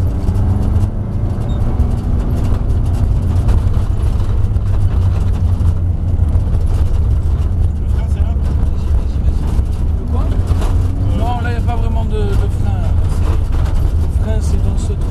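A car accelerates on a driving course at Château de Lastours, its engine a loud, steady roar that rises in pitch near the end, with people talking inside the car throughout.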